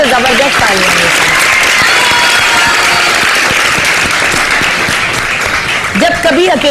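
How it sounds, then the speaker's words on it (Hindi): Loud, dense studio audience applause on a Pakistani TV morning show, a close wash of many clapping hands. A voice speaks briefly at the start and again as the clapping continues at the end. "तो जबरदस्त तालियां हैं।"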